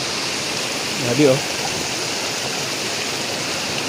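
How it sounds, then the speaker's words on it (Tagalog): Floodwater rushing through a canal after a night of heavy typhoon rain makes a steady, loud, waterfall-like roar throughout, with a brief voice speaking over it. "Kaya parang falls na lang ito po"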